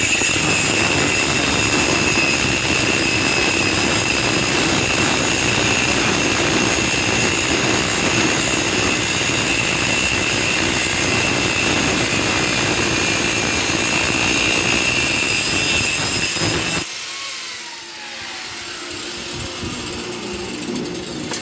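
Power tool cutting solid copper rod, a loud, close, continuous high-pitched grinding whine that runs steadily for about seventeen seconds, then stops abruptly and leaves quieter background noise; no talking.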